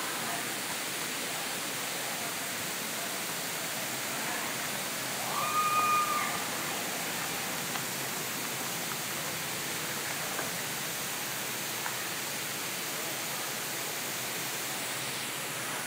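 A large waterfall on Maui with people swimming in the pool below, heard as a steady, even rush of falling water from a distance that continues without a break.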